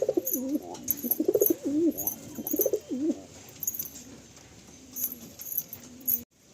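Pigeons in a loft coo in soft, throaty bursts close by, with bird calls repeating through the first half and quieter cooing later amid faint background noise.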